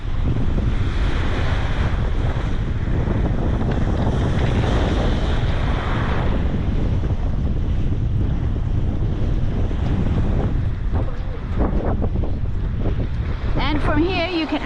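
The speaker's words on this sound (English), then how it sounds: "It's been windy." Strong wind roars and buffets the microphone continuously on a Key West beach, with waves washing in the background and voices speaking faintly beneath it.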